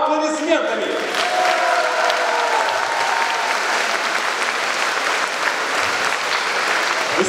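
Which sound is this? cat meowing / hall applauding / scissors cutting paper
hall applauding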